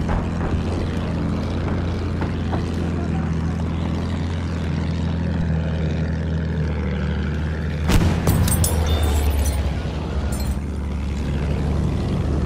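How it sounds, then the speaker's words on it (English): Engines of an enemy bomber flying overhead in a combat video game, a loud continuous propeller drone with a sharp boom and crackle near the middle, no voices. "Feindlicher Bomber! Da oben!"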